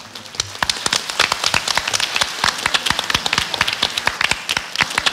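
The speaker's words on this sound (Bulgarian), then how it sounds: "Аплодисменти, дами и господа, за рокаджиите от Търговската гимназия." Loud, dense applause from a concert audience for a high school rock band, with many sharp overlapping claps spread across the whole stretch and no talking.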